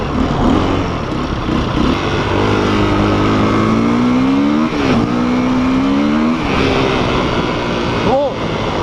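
A Yamaha DT 50 off-road motorcycle revs loudly through its stock exhaust, the engine pitch climbing and dropping across several close, sustained pulls, with a final sharp blip near the end.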